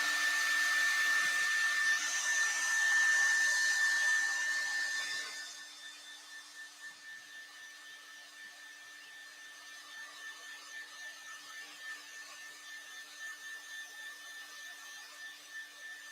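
A hair dryer blows on painted shimmer medium, a loud steady whirring roar for about five seconds before it switches off, leaving a faint hum in a quiet room.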